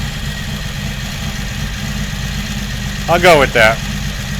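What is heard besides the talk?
1982 Magna V45 motorcycle engine idling after carb install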